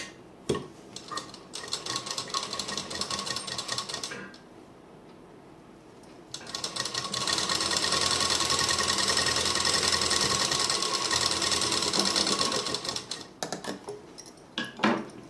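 An electric sewing machine stitching the lining of a suit runs in fast, steady bursts, pausing briefly midway before a longer continuous run, loud and close with no voices.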